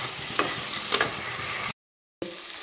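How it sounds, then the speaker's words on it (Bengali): Potatoes stir-fried with spices in an oil-filled pan, giving a steady frying sizzle broken by two sharp stirring scrapes, a brief cut to silence, then sizzling again; close and moderately loud with no talk. "তো এখন ভালোভাবে মশলার সাথে আমি আলুটাকে কষিয়ে নেব।"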